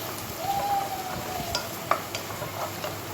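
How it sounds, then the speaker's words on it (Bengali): Onions fry in hot oil with bay leaves and a cinnamon stick, a steady close sizzle broken by a few scraping stirs of a spoon against the pan. "পেঁয়াজটাকে ভালোভাবে লাল করার জন্য এইভাবে নাড়বো।"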